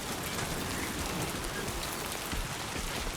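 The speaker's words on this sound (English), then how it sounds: "The sound of rain is fantastic." Steady, dense rainfall in the video game Death Stranding 2, a constant close hiss of drops with no voices or other sounds over it.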